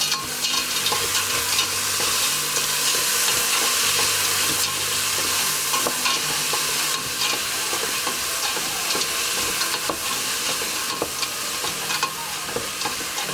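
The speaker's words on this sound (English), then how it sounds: "I like to saute them until they start getting kind of like a crispy kind of look to them." Vegetables with onion sauté in a pan, a steady loud sizzle and crackle with occasional stirring scrapes running throughout, no voices.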